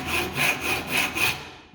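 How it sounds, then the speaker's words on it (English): A hand saw cuts through 6mm timber in a joint, with five evenly spaced rasping strokes close up, each a bright bristly swish, and no talking. "Because this is only 6mm, it will not take very long to saw through."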